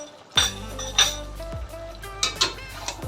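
A metal spoon clinking against a pot while stirring cumin powder, turmeric and Kashmiri red chilli powder for a chicken dish over high flame, about five sharp, close clinks spaced irregularly with quiet ringing between.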